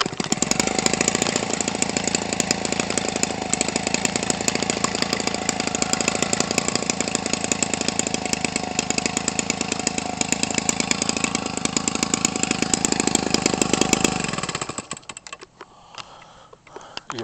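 A Homelite 25cc RC engine runs loud and steady with a buzzing, rapid firing note for about fourteen seconds, then drops off and winds down.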